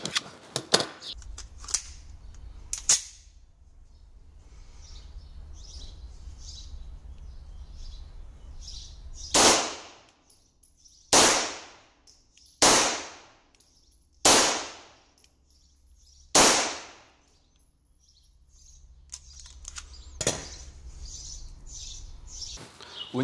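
A Walther P38 pistol fires about six sharp, loud single shots at uneven intervals a second or two apart, each with a short ringing decay, against quiet outdoor background with faint birds and distant noises.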